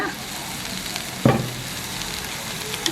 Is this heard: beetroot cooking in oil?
yes